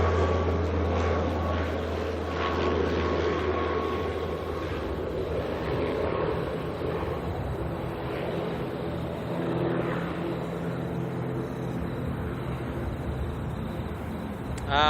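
A Saab turboprop on the Chatham route, arriving from Whanganui at Auckland Airport, gives a steady droning propeller roar with low hum that holds at moderate distance for the whole stretch, with no talk.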